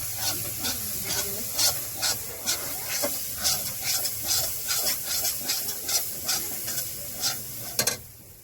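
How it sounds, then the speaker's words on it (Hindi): A spoon scrapes rhythmically through spice masala for jhugni sabzi frying in a hot pan, steady strokes about once a second over a constant loud sizzle, with no talking. "तो चलिए अब हम सब मसाला को अच्छी तरह से मिलाएंगे।"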